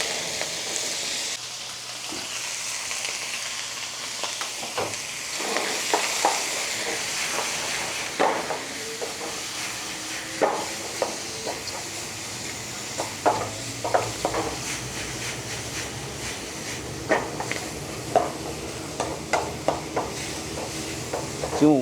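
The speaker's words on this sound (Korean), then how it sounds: "오징어를 붓고" Squid hits a smoking-hot pan for a stir-fry, starting with a loud steamy hiss that settles into continuous sizzling, punctuated by repeated scraping and clattering strokes of a spatula against the pan.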